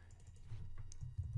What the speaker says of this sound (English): And now you can start typing whatever you want.